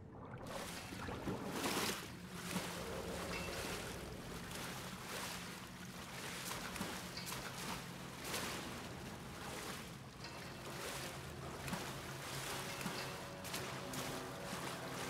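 A canal boat in Wolfenstein: The New Order pushes through water with a steady churning wash and rushing spray under a low engine drone, continuous and fairly close, with periodic surges.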